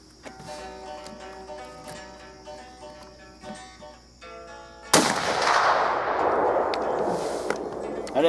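A Berthier M16 cavalry carbine fires outdoors on a range, one sharp, loud report cutting in partway through, followed by a long decaying roar and rumble.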